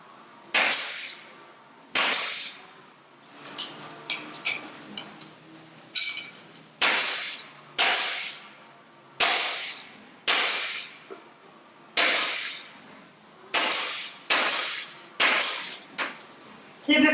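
A pneumatic staple gun drives 3/8 or 1/2 inch staples through upholstery fabric and welt cord on a valance, a dozen or so sharp, loud snaps spaced about a second apart with soft handling noise in between.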